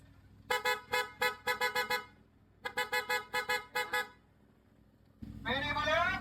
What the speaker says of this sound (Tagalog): Pia horn with combo lights